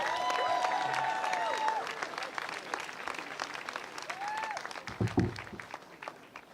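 An audience on its feet claps to welcome the mayor at an outdoor statue unveiling, a broad wash of applause with a few scattered cheers and some background voices.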